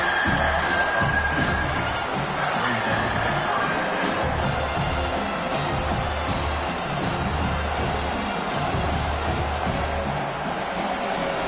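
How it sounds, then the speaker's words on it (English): Dense, continuous roar of a large stadium crowd at a South Carolina vs Georgia American football game, loud and sustained throughout, with indistinct shouting blended into the noise. "And here comes the noise. This crowd is trying to inspire this defense to make a big red zone stop."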